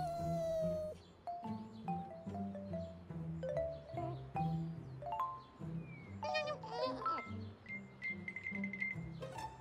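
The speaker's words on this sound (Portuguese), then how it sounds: "De onde vem esse miado de gato?" A cat meows several times amid bright music and chiming tones, the meows short and high, scattered across the clip.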